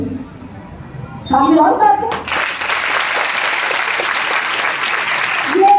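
Audience applause at a motivational workshop on values-based education, a dense burst of many clapping hands that starts abruptly after some talk and carries on steadily to the end.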